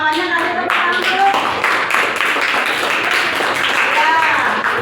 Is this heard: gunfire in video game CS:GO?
no